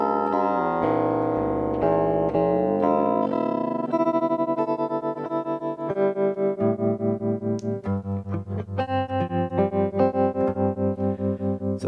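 Electric instrument played through a Red Panda Radius pedal set as a tremolo, sustained chords pulsing in a steady rhythmic throb of rising and falling volume.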